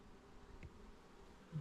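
A newly emerged honey bee buzzes faintly inside a hive, a soft low drone with a brief louder burst near the end.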